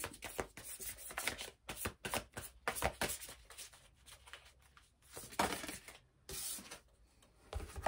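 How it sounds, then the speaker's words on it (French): A deck of oracle cards is shuffled close up in a string of quick, papery riffles and rustles with short gaps between them, and no one speaks. "les cartes ne sont pas du tout faciles à brasser"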